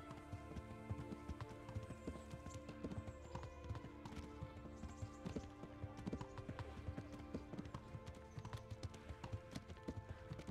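Horse hooves clip-clopping in the medieval role-playing game Kingdom Come: Deliverance, a continuous quick rhythmic patter of hoofbeats at a steady trot under faint ambient game sound.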